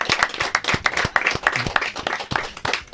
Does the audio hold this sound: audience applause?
yes